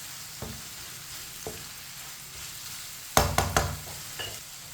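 Green chillies, cut into long pieces, are stirred in a frying pan for an anda karela dish, making a steady low sizzle with a few sharp utensil clacks and scrapes near the end.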